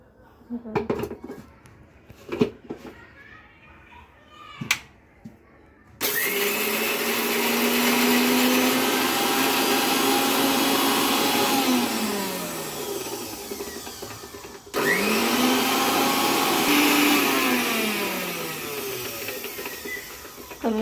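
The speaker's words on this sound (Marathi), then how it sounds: "ते मिक्सरला लावून घेऊया" A mixer grinder blending ginger, cumin and coriander runs in two loud, steady whirring bursts that wind down each time, preceded by a few knocks and clatters of the jar being set up.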